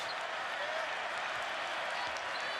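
A crowd of over 30,000 fills a basketball arena at a Duke versus Syracuse game with a steady, roaring wash of noise that holds evenly throughout, without any distinct voices standing out.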